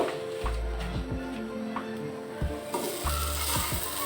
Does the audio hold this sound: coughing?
no